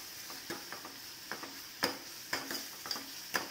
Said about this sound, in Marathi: एक कांदा चिरून घेतला आणि तो टाकलेला आता। तर छानपैकी तेलात भाजून घ्यायचं चाललंय माझं।